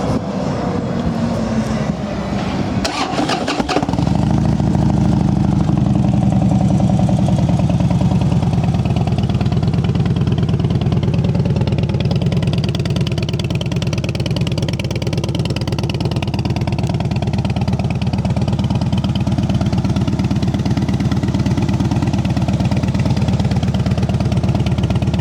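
A used Harley-Davidson Dyna Fat Bob FXDF with 16,274 miles cranks over and fires up, then settles into a loud, steady, lumpy idle through its pipes, close up, with no talking.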